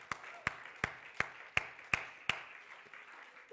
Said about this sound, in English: Come on, somebody, clap your hands unto the Lord.